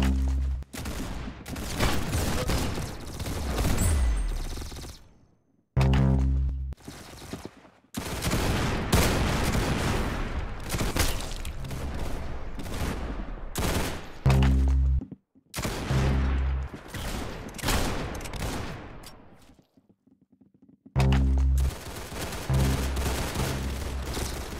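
Gunfire in the Roblox-style shooter Arsenal: loud, close bursts of rapid automatic fire and repeated shots, broken by several short silent gaps between engagements.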